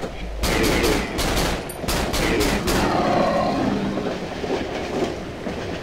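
Rapid gunshots in the horror game Cry of Fear, a string of loud, sharp reports fired in quick bursts with ringing echoes between them, up close and dominating the scene.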